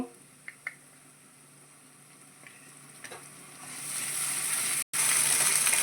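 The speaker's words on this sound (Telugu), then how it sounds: "ఇప్పుడు మనం అల్లం వెల్లుల్లి పేస్ట్ అయితే యాడ్ చేస్తున్నాను" Ginger garlic paste hitting a hot pan, a quiet hiss with a couple of small clicks that builds into a strong, close sizzle toward the end.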